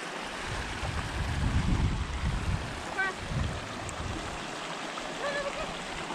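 Stream water rushing at the top of a waterfall on a large rural property, a steady broadband wash with gusty low rumbles from wind on the microphone, nearby and moderately loud.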